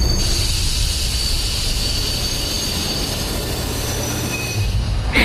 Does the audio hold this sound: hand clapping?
no